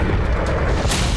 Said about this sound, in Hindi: धमाका हो गया।